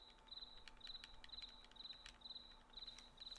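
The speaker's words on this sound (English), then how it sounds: "The crickets are definitely in the game." Crickets chirping in the video game Chibi-Robo!, a faint repeating high trill in short regular bursts about twice a second, with soft clicks over a low steady hum.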